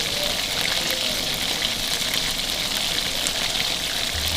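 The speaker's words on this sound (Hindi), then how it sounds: "चिकन देखिए फ्राई हो चुका है" Chicken pieces deep-frying in oil in a kadhai, a steady dense sizzle and crackle holding constant and close throughout with no talking.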